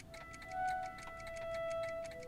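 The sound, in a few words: cat clock ticking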